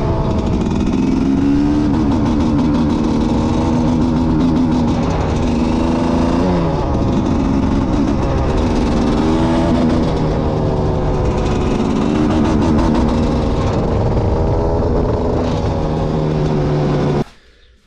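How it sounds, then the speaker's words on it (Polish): A Gas Gas EC250 dirt bike with a misfiring, jerking engine runs continuously and loud for about seventeen seconds, the revs surging and dropping unevenly before cutting off abruptly at the end, close up with no talking. "jak widzieliście, moto szarpie, nie chce jechać od pełnej"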